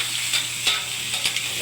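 Shrimp fry in a hot pan with a seafood dish of kabuknoy shellfish, keeping up a steady close sizzle with a few stirring scrapes and brief spatter bursts.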